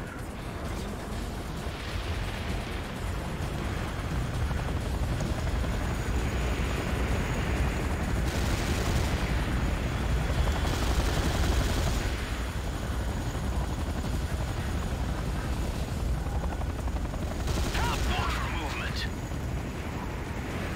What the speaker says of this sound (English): Warning, enemy aircraft detected.